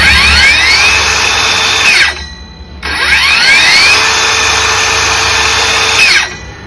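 An Ingco cordless circular saw revving up to speed, its blade spinning with a loud high whine that falls away as it spins down, then starts a second time and runs down again; no talking.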